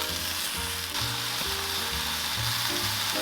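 Vegetables saute in hot oil in a pot with a steady, loud sizzle, and a few soft stirring knocks break through it.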